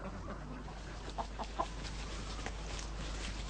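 Chickens in a permaculture garden give a few soft, scattered clucks over a steady low background hum, fairly faint and distant.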